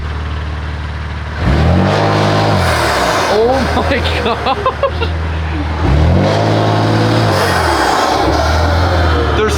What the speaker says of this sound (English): Let her mix for a little bit, and then see what these intakes sound like.